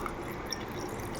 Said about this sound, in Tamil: தண்ணி பார்த்துக்கோங்க மக்களே, தண்ணி ஊத்துரு